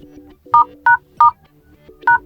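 Four crisp dual-tone beeps ring out as keys are pressed on an Infinix HOT 40 Pro keypad, irregularly spaced and clear over a faint background hum.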